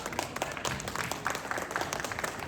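Steady applause from an audience at a literary festival event, honouring a Sufi singer, a continuous moderate patter of many hands clapping at some distance, fairly even throughout.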